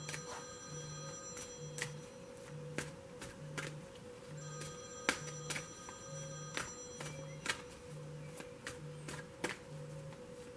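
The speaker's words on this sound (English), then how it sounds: "My phone's over there, so we're just going to let it ring." A phone left to ring indoors, sounding a regular series of repeated electronic ring bursts at steady intervals, fairly quiet and somewhat distant, with no talking over it.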